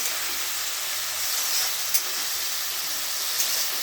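Fish fries in a pan with a constant, loud hiss and sizzle, broken only by a couple of small pops.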